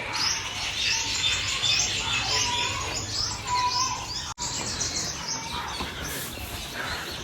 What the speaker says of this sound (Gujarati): કબૂતર જોઈ શકો છો, પક્ષીઓ ઘણા બધા પક્ષીઓ હોય.